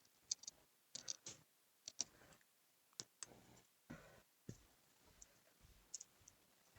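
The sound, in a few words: scissors cutting paper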